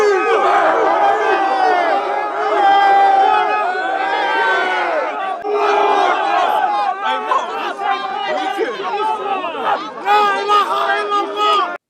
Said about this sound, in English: Towards evening, a large crowd formed and began yelling.